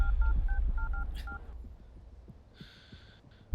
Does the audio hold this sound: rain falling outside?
no